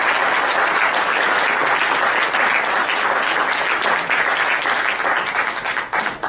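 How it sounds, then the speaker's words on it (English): Sustained audience applause fills a closing ceremony hall, dense and steady clapping from many hands throughout, easing slightly near the end. "give them a round of applause."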